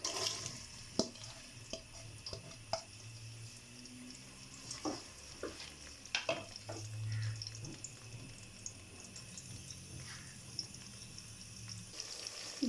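Onions frying in a cup of mustard oil for a home-style aloo gosht, a steady low sizzle with scattered pops and the clink of a stirring spoon, fairly faint, no talk.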